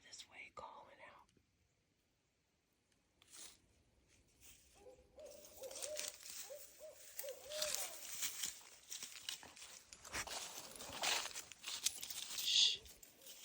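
An owl hoots far off in the countryside among autumn trees, faint and intermittent under leaf rustle, soft whispers and a little crunching.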